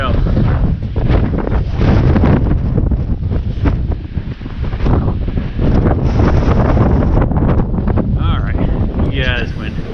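Strong wind roars and buffets against the microphone on a winter mountain hike through the woods. The rush is loud and continuous, with a brief lull midway.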